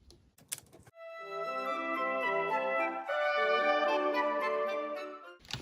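A sewing machine runs steadily with a whirring motor whine that shifts in pitch as it stitches a binding strip onto a quilt-as-you-go quilt. Brief handling noises come just before and after.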